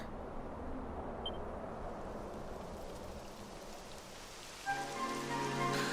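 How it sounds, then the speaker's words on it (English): Steady rain hisses across the whole clip in the video game Dragon Warrior XI, a dense broadband patter; near the end a brighter tonal layer of music or ambience rises over it. "It would have to go and start raining, wouldn't it?"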